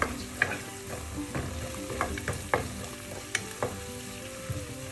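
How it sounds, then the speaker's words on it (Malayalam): Chilli chicken with celery stir-frying in a pan over high flame, a steady close sizzle broken by repeated sharp scrapes and clatters of the spatula tossing the pieces, with no talking. "കുറച്ച് സെലറിയും ചേർക്കാം നമുക്ക് അപ്പോൾ തന്നെ നന്നായി മിക്സ് ചെയ്യാം"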